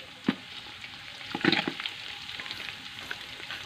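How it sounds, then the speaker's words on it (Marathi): Ground garlic and coconut paste hits hot oil in a wood-fired mutton curry, sizzling and popping in a few sharp bursts, then settling into a softer, steady fry nearby. "पहा त्यामध्ये मी लसूण खोबरं जे आपण वाटून घेतले ना ते घालून घेणार आहे"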